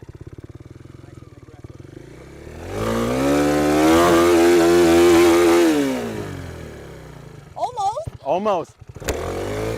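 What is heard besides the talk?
motorcycle engine revving as rider releases clutch and throttles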